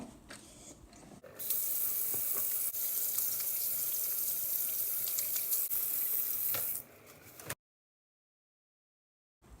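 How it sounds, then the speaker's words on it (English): Water runs from a kitchen tap while hands are washed, a steady close rush lasting about five seconds with small splashes, then shut off into silence. "The first step is to wash your hands."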